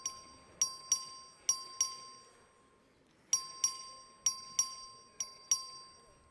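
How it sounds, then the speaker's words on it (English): Voting bell rung in the Texas House chamber before a record vote, a series of bright metallic strikes in two bursts of about six rings each, every ring sharp and fading quickly, with a quiet room in between. "The clerk will ring the bell."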